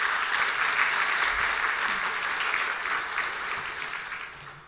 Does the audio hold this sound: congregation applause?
yes